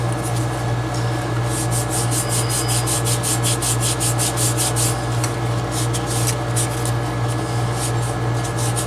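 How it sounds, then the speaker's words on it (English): Hand sanding on a vintage tool chest handle: steady, rapid back-and-forth rubbing strokes, close and continuous, over a constant low hum throughout. "A little more hand sanding."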